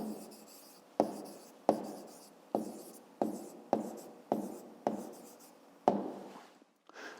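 Handwriting on paper with a pen: a series of about nine scratchy strokes, each starting sharply and fading, evenly spaced and close by, with no talk over them.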